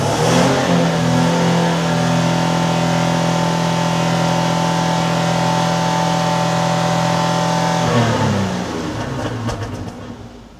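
A car's engine is revved hard to 75% of its maximum RPM during an exhaust noise inspection, a loud sustained droning roar held for about eight seconds before it drops away and fades.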